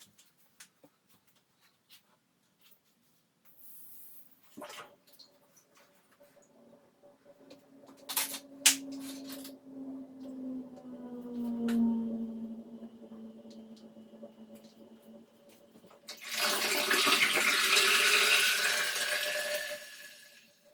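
Water draining from a 4 ft by 6 ft walk-in shower pan after the drain test plug is pulled: faint handling noises and a low gurgle build into a steady rushing drain near the end.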